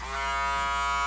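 Braun 7526 electric shaver running steadily after a battery replacement, a close, continuous high buzzing hum with no voices.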